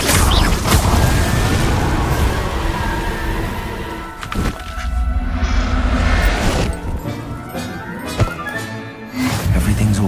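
Confringo blasting curse explosions in Hogwarts Legacy, heavy booming blasts with rumbling crashes and whooshing debris, several impacts in succession with brief lulls between them.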